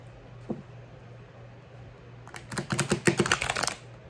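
New tarot cards are riffled in a quick burst of crisp, rapid clicks, with one faint tap earlier in an otherwise quiet room.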